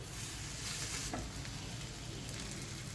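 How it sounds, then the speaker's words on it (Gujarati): Potato tacos made from leftover roti sizzle steadily in a hot pan, a continuous close frying hiss with a brief stir or shift partway through. "ટાકોઝની બંને સાઈડ એકદમ સરસ બ્રાઉન થઈ જાય ત્યાં સુધી આપણે શેકી લેશું"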